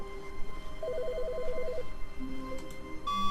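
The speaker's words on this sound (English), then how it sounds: "Phone's ringing." An old-style telephone rings in The Stanley Parable, a steady trilling double ring repeating for about a second over a low hum of office ambience, followed by a few faint tones.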